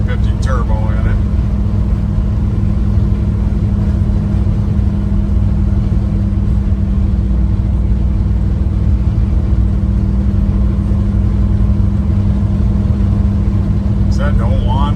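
A 1972 Chevrolet C10 Custom Deluxe pickup with a 350 turbo transmission drives along, its engine a loud, constant low drone with road and wind rumble close up throughout.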